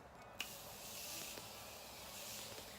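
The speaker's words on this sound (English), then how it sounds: "Last thing I'm going to do is use my Morphe setting spray" A Morphe makeup setting spray mists out in a steady close hiss, opening with a short sharp burst and then continuing evenly for a few seconds with no talk.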